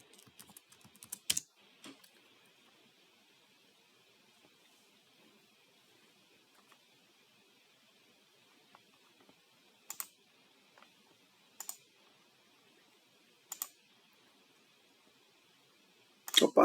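Sparse keystrokes on a computer keyboard entering a password, a quick burst of clicks at the start, then isolated taps separated by long quiet gaps, fairly faint in a quiet room.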